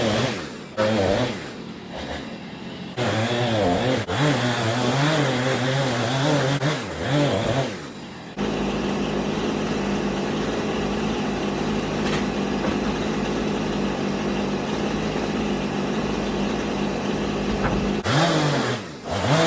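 A gas chainsaw cutting out a floor during house demolition runs loud and close, its engine revving up and down in bursts, then holding a long steady high whine under load before easing off near the end.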